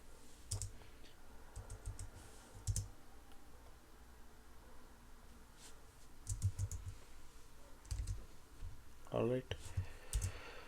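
Quiet computer keyboard typing of Python code, with short bursts of soft key clicks spaced irregularly, mostly light taps with a few louder strokes, heard close under a faint background hiss.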